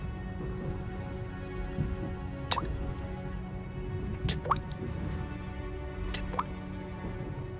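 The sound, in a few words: blood dripping from hands into a small puddle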